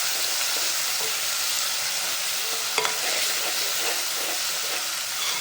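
Chopped onion and tomato sizzle steadily in a hot pan while being stirred, a close, continuous frying hiss with occasional scraping taps.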